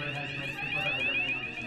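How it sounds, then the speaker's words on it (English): A fire alarm goes off in the Big Brother house, a loud, steady electronic siren with a rapidly repeating warble that sounds continuously for the whole moment. "I pressed the fire alarm."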